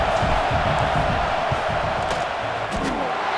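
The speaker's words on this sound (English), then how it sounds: "This crowd trying to do its part to get inside the kicker's head." A college football stadium crowd in the CFB 26 video game roars steadily as fans try to rattle a kicker before a field goal, a loud, dense wash of noise with no one talking.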